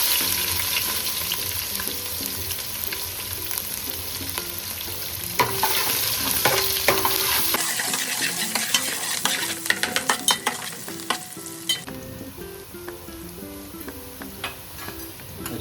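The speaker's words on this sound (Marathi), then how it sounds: "आता याच्यामध्ये मी टाकणार आहे कांदा." Onions sizzle and fry steadily in a hot pan for spicy Agri-style mutton, with repeated scraping and stirring clinks of a utensil against the pan and background music throughout.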